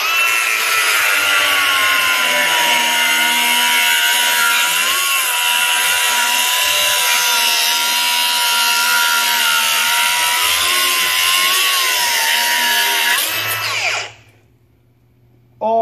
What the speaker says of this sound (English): Milwaukee grinder.